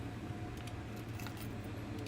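Car keys jangle in the video game Blue Prince, a bright metallic clinking in a few quick shakes over a steady low background hum, with no voices.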